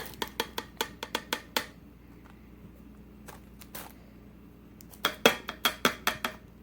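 A can of mushrooms is emptied into a cooking pot as a rapid run of close metallic clinks and taps, a quiet pause, then another quick burst of clinking, with no talking.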